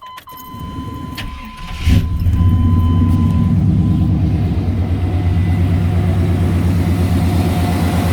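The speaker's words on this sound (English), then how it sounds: "I'm gonna just let y'all hear this truck, man. It run real good." A 1995 Chevy short-bed pickup engine cranks and catches, then settles into a steady, loud, rumbling idle that runs on without a break.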